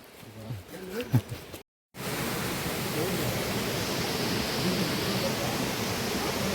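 Water flows steadily at Lakshmana Tirtha in the Brahmagiri hills, a dense, even rushing hiss close by that fills the clip after a short voice and a brief silent gap at the start.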